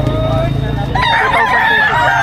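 Roosters crow loudly and close at a gamecock market in Padre Garcia, Batangas, with a long crow rising over a busy background of clucking fowl and crowd noise.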